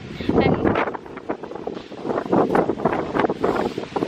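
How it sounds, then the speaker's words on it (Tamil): Strong wind buffeting the microphone in loud, uneven gusts, roaring and rumbling with no voices, as rain begins. "பயங்கரமாக காற்றடிக்குது"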